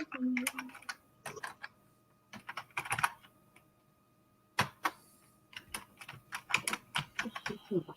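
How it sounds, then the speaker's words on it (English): Close keyboard typing comes in quick clattering bursts separated by short pauses, with a voice briefly heard at the start. "Obviously, you can hear me typing,"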